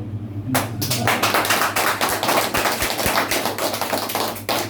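An audience at a business training session claps hands in a dense, sharp burst of many individual claps, loud and close, without talking over it.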